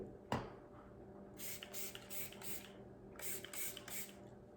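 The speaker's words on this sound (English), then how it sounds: "Spray again." A hand spray bottle mists over melt and pour soap, several short hissing pumps in two quick groups, close and fairly quiet, after a sharp click at the start.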